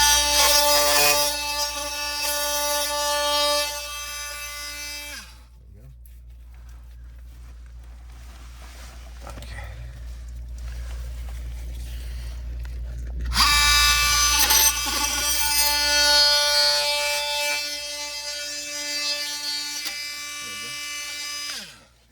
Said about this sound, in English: So that pipe's gonna have burrs on it now because the oscillating tool will leave burrs.